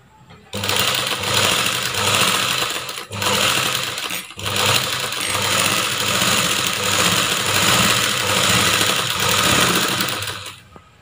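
A tailoring sewing machine runs steadily while stitching a simple blouse neck design, a loud continuous whirring motor with two brief pauses before stopping.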